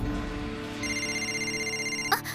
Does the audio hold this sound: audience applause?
no